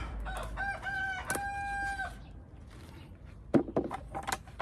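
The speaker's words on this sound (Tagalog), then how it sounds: "May kasama pang tilaok." A rooster crows nearby during a garden harvest of beans and okra, one long drawn-out call standing clear over faint outdoor ambience, followed by some brief rustling and handling noises.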